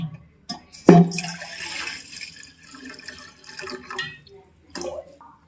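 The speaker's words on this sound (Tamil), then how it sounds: "இப்போ பாத்திரத்தை வச்சாச்சு கேஸ் சிம்மில் தான் இருக்குது தண்ணி ஊற்றிக்கலாம்" Water is poured into a cooking pot on a low gas flame for drumstick leaf soup, a short close splashing pour followed by quieter dribbling and drips.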